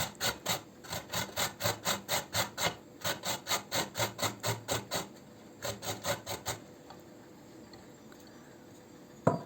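A carrot is grated on the fine side of a hand grater in quick, even rasping strokes, a steady run of about twenty strokes that pauses briefly and then resumes for a few more before stopping, with no talking.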